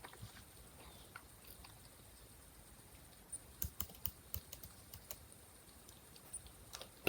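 Several crisp keyboard key presses, a Shift-Ctrl-W shortcut entered while working in PLC programming software, with soft irregular clicks after a quiet start.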